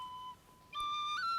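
Short toy whistle on a handmade Crimean Tatar toy, a thin tone that fades, a pause, then a louder, brighter shrill blast sustained to the end, with no talking.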